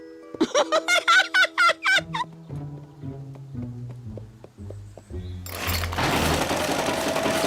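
A rapid string of squeaky, gobbling bursts gives way to low tones, then a sewing machine whirs steadily and loudly at the end.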